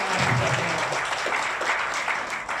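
An audience claps, a dense crackle of many hands that starts strong and fades a little toward the end, with no talk over it.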